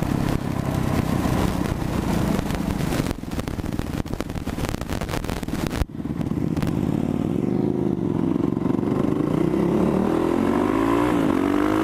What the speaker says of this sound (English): Acura Akrapovic exhaust on that thing. That sounds fucking amazing.